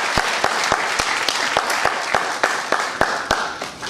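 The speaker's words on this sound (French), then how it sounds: "applaudissez pour vous-même votre détermination" An audience at a Cameroon–China gathering applauds, with sharp individual claps standing out sharply and fairly regularly above a dense, steady bed of clapping that continues alone throughout.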